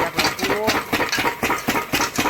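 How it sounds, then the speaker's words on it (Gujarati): A diesel engine drives a belt-run pump drawing water from a well, chugging in a quick regular pulse at close range, steady and moderately loud with no talk. "આ છે આપણું કૂવામાંથી પાણી કાઢવાનું મશીન અને પાછું પાણી કાઢી રહ્યું છે"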